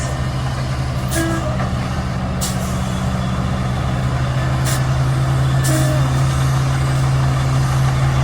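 A truck hauling a mobile home trailer idles and rumbles with a deep steady engine drone, loud and close, with a few sharp hissing bursts like air brakes releasing at intervals; no one speaks.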